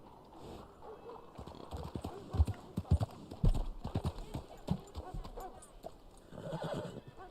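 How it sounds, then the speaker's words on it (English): A horse whinnies and its hooves clip-clop in a quick, close series in the video game Red Dead Online, with someone speaking over part of it. "You ought to take care of that horse there. Real fine beast."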